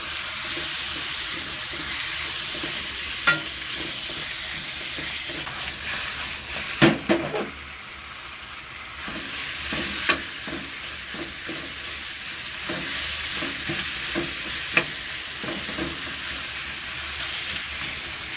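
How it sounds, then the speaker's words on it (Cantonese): Chicken wings frying in a wok with fermented black beans and garlic, a continuous crackling sizzle broken by occasional sharp scrapes and clinks of a spatula stirring, close up with no talking. "咁樣煎佢一陣啦"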